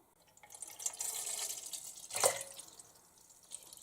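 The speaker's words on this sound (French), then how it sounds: "Je verse 1 litre à chaque fois." Fresh whole pasteurized mountain milk pours into a container in a soft, steady liquid stream lasting a few seconds, with a brief louder splash midway and no voices.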